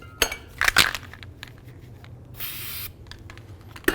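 Copper never-seize sprayed onto the threaded brake adjuster of a 1992-99 GMC K1500 rear drum brake, a steady hiss of about half a second among faint metallic clinks and handling noises nearby.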